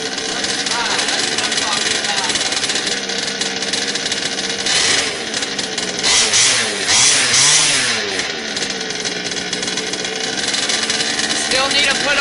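The small gas engine of an HPI Baja 5T RC car starts and runs with a loud, raspy, buzzing drone and brief revving swells partway through.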